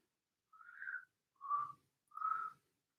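A person whistles three short, clear notes, the first slightly rising, each separated by brief silence, quiet and alone.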